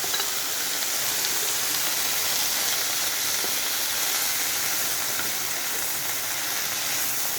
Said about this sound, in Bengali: আমি একটু সামান্য জল দিচ্ছি।